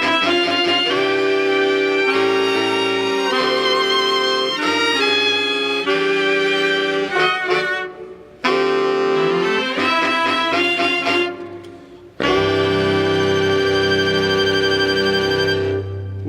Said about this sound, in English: Reeds and strings together.